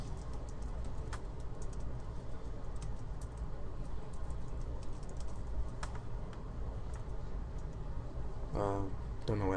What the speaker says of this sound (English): I'm going to type in something.